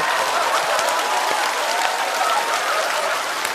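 Men in a stand-up comedy audience clap together in a steady, dense burst of applause that holds at an even level throughout, with no voices over it.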